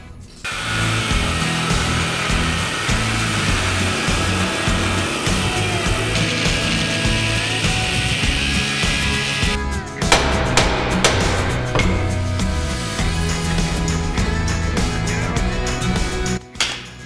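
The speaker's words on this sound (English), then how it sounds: "I'm gonna have to cut it loose with the angle grinder." An angle grinder cuts a stuck part loose on a car hauler trailer, a loud, continuous high-pitched whine and grinding that runs throughout, shifting to harsher, choppier bursts as the cut nears its end.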